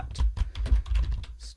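Quick clicking keystrokes on a computer keyboard as a Linux sudo apt command is typed on a budget mini PC, a short close burst of irregular taps.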